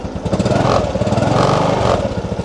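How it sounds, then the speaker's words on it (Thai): A Honda Dream C125 motorcycle engine catches on the first press of the starter and settles into a steady, loud, close putter with a fast chugging rhythm, no voices over it. "กดให้ดู นี่ครับทีเดียวติด ไม่ต้องบิดคันเร่งอะไรช่วยเลยนะฮะ"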